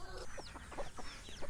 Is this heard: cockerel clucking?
yes